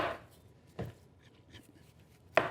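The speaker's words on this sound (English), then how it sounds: "I'm going to chop up my onion. Chop an onion." An onion is chopped with a knife while cooking elk chili, a few faint, sparse thuds of the blade on the board with long quiet gaps between strokes.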